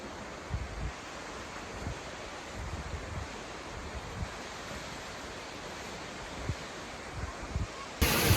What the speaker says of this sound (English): Waterfall number 2, and this one is pretty sweet.